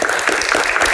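A studio audience of university students applauds, a dense burst of clapping that fills the whole moment at close range.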